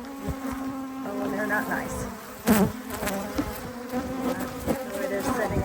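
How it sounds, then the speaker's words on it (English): Dense, steady buzzing of a swarm of Africanized honey bees at an open Layens hive in Arizona, close and continuous throughout, with people talking briefly over it. "Oh, that's a lot of bees."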